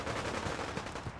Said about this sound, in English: So I hear gunfire.